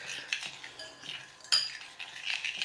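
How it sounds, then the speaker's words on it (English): A spoon stirring melting chocolate in a bowl while tempering, with soft scraping and a few light clinks against the bowl, quiet and close, alone without talk. "And I'll just keep stirring"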